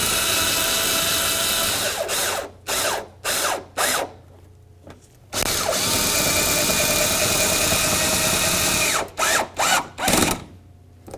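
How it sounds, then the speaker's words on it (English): Self-tapping screws driven into a fender flare on a 2002-2008 Dodge RAM 1500 with a power driver, a long whirring run, several short buzzing bursts, another long drive, then a few more quick bursts. "we continued on by applying a couple of the self-tapping screws"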